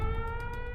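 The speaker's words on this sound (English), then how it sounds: "LA residents wake to the scream of air raid sirens." Air raid sirens wail over Los Angeles in the dark early morning, a steady, sustained tone with layered harmonics, heard alone and fairly distant.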